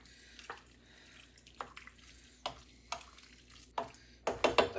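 A cup of peas being stirred into mashed shepherd's pie soup ingredients: soft, wet scraping strokes about once a second, quiet and close, growing a little busier and louder at the end.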